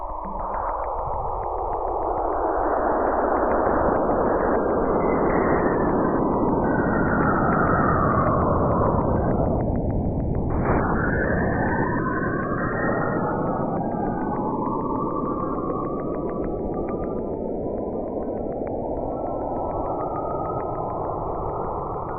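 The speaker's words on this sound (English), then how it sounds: "the recording of plasma waves into an audio file so we could actually hear it" Eerie plasma waves passing between Saturn and one of its moons, rendered as sound: a continuous loud rushing drone with sweeping, gliding whistle-like tones that fall and rise, with no voices.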